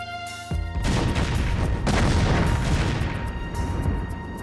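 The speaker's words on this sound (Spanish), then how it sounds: "Uno por uno, los casinos del viejo Las Vegas han sido demolidos." Old Las Vegas casinos being demolished: after a brief quiet moment a sudden heavy blast breaks into a loud, sustained, crackling rumble that rolls on to the end.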